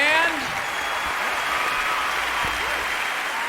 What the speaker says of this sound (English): Let's have some big applause for the band.